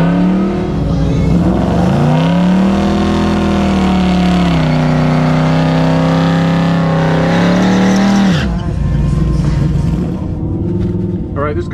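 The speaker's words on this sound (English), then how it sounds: "Alright, we're gonna run the purple Firebird." Purple 1967 Pontiac Firebird drag car on drag radials launching hard down the strip, a loud engine roar climbing and holding for about eight seconds before cutting off abruptly, with voices talking underneath.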